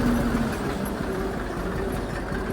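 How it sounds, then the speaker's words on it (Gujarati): A low, steady engine rumbles at idle throughout, a heavy tractor-like drone with no talking over it. "હારું ભાઈ ટ્રેક્ટર ચલાવી"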